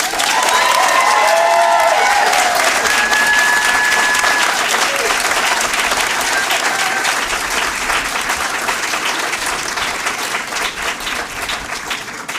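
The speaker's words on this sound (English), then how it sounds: "Let's give our guests a hearty round of applause." Sustained applause from a commencement audience at the Yale School of the Environment alumni ceremony, a loud, dense wash of clapping lasting throughout and slowly easing toward the end, with faint crowd voices mixed in.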